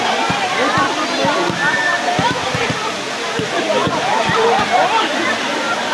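Water rushing at Daranak Falls, where people jump into the cold pool; a loud, continuous roar of falling and churning water with splashy bursts throughout, close by.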